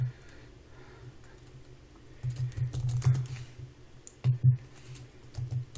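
Keys clatter on a computer keyboard as data is entered into business software, with irregular bursts of close, crisp clicks separated by short pauses.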